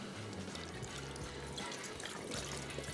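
Vinegar for Turkish pickle is poured from a container in a soft, steady liquid stream lasting a few seconds, faint and close with no talking.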